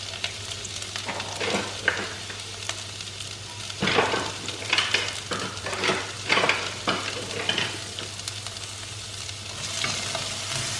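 Onion and curry leaves fry in a pan for a lamb chop recipe, a steady close sizzle broken by repeated scraping stirs of a spoon against the pan, with no voices.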